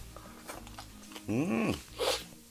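Crunchy radish kimchi (shredded radish, freshly made) being bitten and chewed close up, with a few sharp crunching bites set apart and a short hummed voice sweeping up and down in between.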